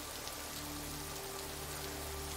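Steady rain falls in a movie scene from John Wick, a dense, even hiss of drops on surfaces that holds at a constant level throughout with no voices over it.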